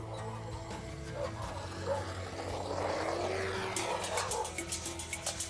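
A small radio-controlled model airplane engine whines somewhat faintly outdoors as it is throttled up for takeoff into the wind, its pitch climbing, with sputtering bursts toward the end.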